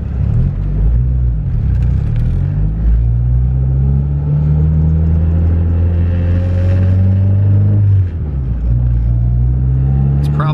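Turbocharged single-cam Honda D-series car running on E85, heard from inside as the engine pulls through rising revs with a steady loud rumble, a brief dip around a shift, then climbing again.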